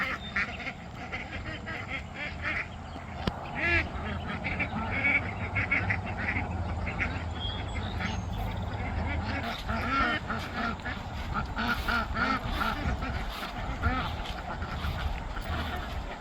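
Mother ducks with their ducklings quack and honk continuously in a busy farmyard chorus around chicken coops, a dense, steady mix of near and farther calls lasting throughout.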